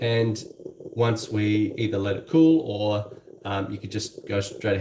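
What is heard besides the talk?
None of the usual background noises is heard.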